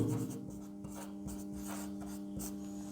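Chalk or marker scratches across a classroom board in short, quiet strokes and squeaks, with a steady low hum in the background and no one talking.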